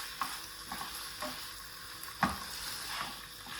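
Capsicum stir-fries in a pan for a chicken sandwich filling, giving a soft, even sizzle with occasional spatula taps and one clearer knock, all fairly quiet.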